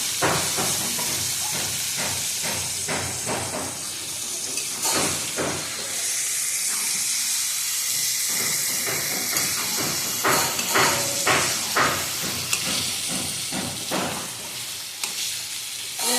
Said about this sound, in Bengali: চিকেনটা দিয়ে দেবো, এবার কষিয়ে দেবো।